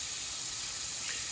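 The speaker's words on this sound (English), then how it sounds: "I'm sauteing them in some bacon grease." Leftover vegetables sautéing in bacon grease in a pan, a steady, even sizzle and hiss that is close and moderately loud throughout, with no voices.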